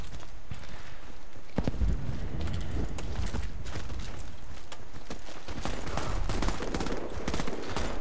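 Rapid gunfire rattles in Warface, a first-person shooter match, with dense bursts and sharp repeated shots close and loud throughout, under faint talk.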